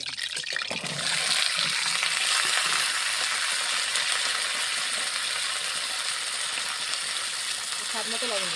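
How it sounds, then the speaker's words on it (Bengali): Pointed gourd (potol) hits hot oil in a preheated wok and sets off a loud, dense, continuous sizzle that holds steady throughout. A voice is briefly heard at the start and the end. "এই যে পটলগুলো ঢেলে দিলাম।"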